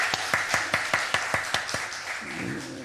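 Applause breaks out in a church during a Sunday afternoon service, a brisk run of sharp, evenly spaced claps from a small group that thins and fades after a couple of seconds.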